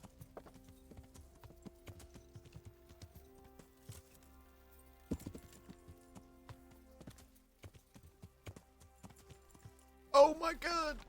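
Horse hooves clip-clopping in the Kingdom Come: Deliverance video game, a quiet irregular patter of hoof falls with a louder burst near the end, under occasional talk.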